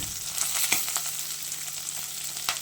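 Onion, green chilli and peas sautéing in a pan for veg pulao, a steady close sizzle with a few light stirring clicks throughout, no speech.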